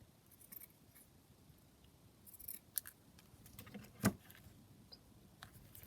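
Scissors trimming paper ephemera for a junk journal, a few quiet, close snips in a hushed room, with one sharper cut standing out.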